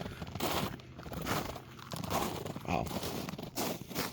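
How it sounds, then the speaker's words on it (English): Crunching footsteps on frozen snow outdoors in winter, a steady run of close, gritty steps, mixed with someone talking. "such a weird noise because it's so crunchy"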